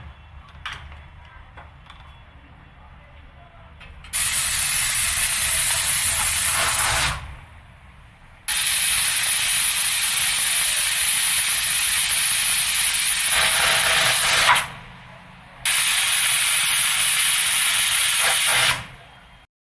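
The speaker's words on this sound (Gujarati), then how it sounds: "ઢાંકણું ઢાંકી દેશું ઉપરથી. 3 વિસલ વગાડવા દેશું." Pressure cooker on a kitchen stove cooking pav bhaji vegetables with beetroot, letting out three loud, sustained whistles of hissing steam, each lasting a few seconds with short quiet gaps between, over a low background rumble.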